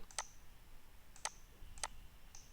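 Mouse clicks while stopping the DHCP service in a Windows Server DHCP console: four sharp, isolated clicks spaced about half a second to a second apart, close and fairly quiet over faint room hiss.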